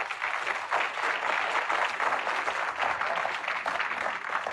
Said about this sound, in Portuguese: Vamos, aplauda